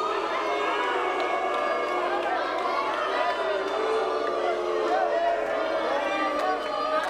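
A wrestling arena crowd at a TLC match event roars steadily with cheering and chatter, a dense, continuous wash of many voices throughout, with an announcer's voice speaking over it.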